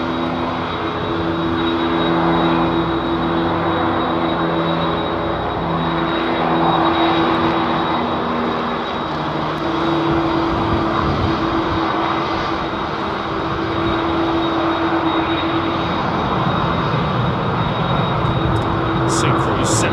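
A DHL cargo jet with old GE CF6 engines departs, its powerful engine roar and tonal whine sustained and loud, while people talk over it.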